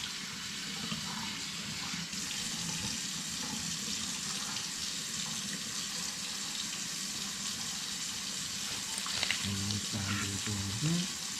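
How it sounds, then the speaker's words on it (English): Fresh produce is rinsed under running tap water, a steady, loud rushing stream that continues throughout, with a few knocks and handling noises near the end. "Whenever you get the fresh produce, you always want to give it a little bit of a rinse every single time"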